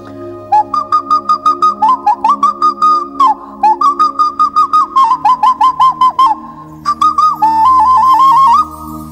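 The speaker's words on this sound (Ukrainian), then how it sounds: "я вмію свистульки робити та й окарінки, а й бо грати на них не дуже вмію" A handmade clay whistle or ocarina plays a quick, bright melody of short repeated notes and trills, clear and close with no voices, ending on one long held tone.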